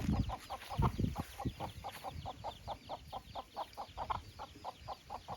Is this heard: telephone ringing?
no